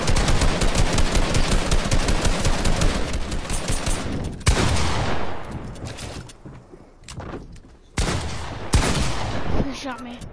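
Rapid automatic gunfire from the video game Fortnite, dense bursts of shots filling the first seconds, then scattered shorter volleys with brief gaps, loud and close, while a voice speaks over parts of it.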